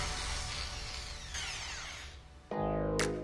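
An electric grinder runs steadily with a continuous whirring drone, close and fairly loud, then shifts abruptly to a different, harsher tone near the end.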